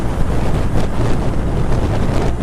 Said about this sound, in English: Nothing nearly uncomfortable. Just very windy.